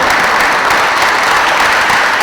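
A school assembly audience claps in a dense, loud, continuous burst of applause that fills the whole moment without a break.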